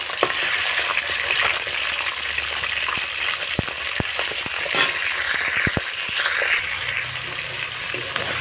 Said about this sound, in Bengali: বাকিগুলো এবার ভেজে নেব